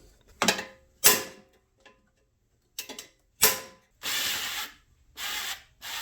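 A wrench working on a stripped bolt on a Craftsman Platinum mower gives short bursts of clicking ratchet strokes with gaps of silence between them, close and fairly quiet.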